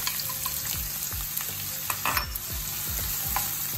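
Chopped onion fries in hot oil with cumin, giving a steady bright sizzle. Repeated scraping stirs and clinks of a utensil against the pan sound close by, and no one speaks.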